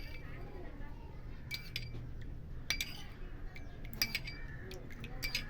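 A spoon stirs curd in a bowl, giving soft, irregular clinks and taps against the bowl over a faint low background hum.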